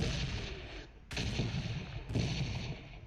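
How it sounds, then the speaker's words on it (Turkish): Gunfire in the PUBG Mobile battle-royale game, a few sharp distant shots cracking over a continuous rumbling game soundscape, moderately loud, with no speech over it. "Soldan birisi bize sıkıyor ama"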